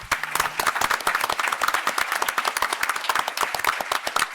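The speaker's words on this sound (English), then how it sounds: "A big round of applause for everyone." An audience at a forum on disaster legal services applauds, a moderate crowd clapping steadily and fairly close, with individual claps distinct within the sustained round of applause.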